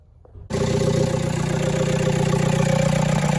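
A loud VW PD130 diesel engine swapped into a Talbot camper, with a new full exhaust, idles steadily after starting up, a deep continuous rumble with a raspy, throaty exhaust note close by.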